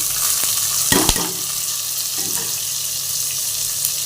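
Onion, tomato and green chilli hit a hot pan, a couple of loud sizzling bursts early, then a steady, fairly loud hiss of frying.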